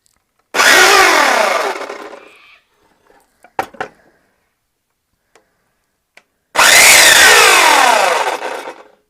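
A power saw with a worn motor runs rough in two loud bursts of about two seconds each, with a few faint knocks and rattles in the quiet gap between them.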